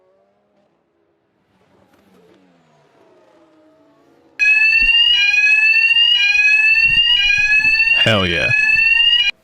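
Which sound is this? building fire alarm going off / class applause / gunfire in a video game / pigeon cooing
building fire alarm going off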